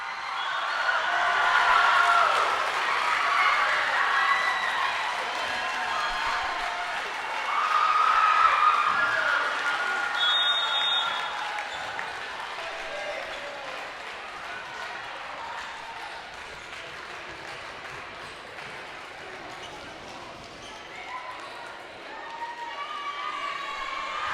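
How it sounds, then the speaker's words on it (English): Crowd applause and cheering at a girls junior varsity volleyball match in the Bourne High gym, a sustained roar of clapping and shouts that swells near the start and again mid-way, then settles into steady applause. "Listen to the crowd here at Bourne High."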